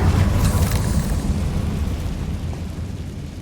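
An Incendio fire spell is cast in the Hogwarts Legacy video game: a loud, deep whooshing burst of flame that roars up at once and then slowly fades over a few seconds, with no voices over it.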